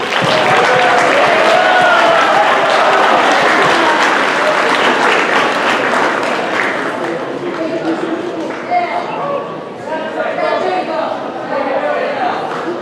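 Loud, sustained applause from a large crowd at a high school student recognition assembly, dense clapping that swells then gradually thins toward the end.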